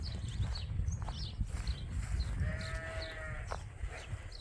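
Sheep bleat in an open pasture on a livestock farm, with one clear drawn-out bleat standing out midway over steady rustling, wind and low outdoor noise, along with a few fainter calls.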